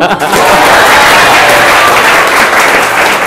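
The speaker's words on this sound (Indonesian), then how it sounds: "Tepuk tangan dong." A school audience at a talk show for junior high students breaks into loud, dense applause and cheering, a sustained close roar of clapping with crowd noise mixed in.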